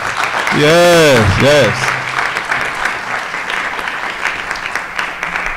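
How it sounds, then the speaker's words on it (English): An audience at a school board meeting applauds steadily as an honoree comes forward, a dense wash of clapping that continues under loud cheering voices at the start. "Give a round of applause."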